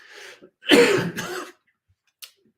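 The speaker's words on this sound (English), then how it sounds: "I've got a tickling cough, guys." A person with a tickling cough clears the throat up close: a soft low hum, then a harsh, rasping double burst of clearing, followed by quiet and a tiny click.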